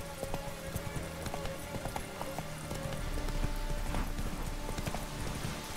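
Steady clip-clop of horse hooves at a running pace in The Witcher 3: Wild Hunt, fairly close, with a faint whinny and light game ambience behind.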